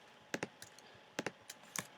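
Typing on a computer keyboard, close and crisp: irregular bursts of clicking keystrokes in quick clusters with brief pauses between.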